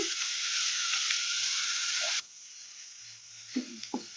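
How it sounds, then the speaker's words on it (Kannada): Masala pasta ingredients with green chillies frying on a medium flame, a strong close sizzle that suddenly drops to a quieter hiss, followed by a few stirring scrapes and knocks. "ಈ ಥರ ಕಲಿಸ್ಕೊಂಡು ಫ್ರೈ ಮಾಡ್ಕೊಂಡ್ಬಿಡೋಣ ಮೀಡಿಯಮ್ ಫ್ಲೇಮಲ್ಲಿ"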